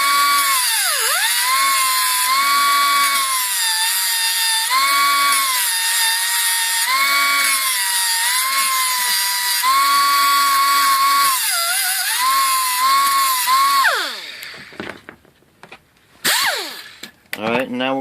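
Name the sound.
power tool grinding the side of a brake part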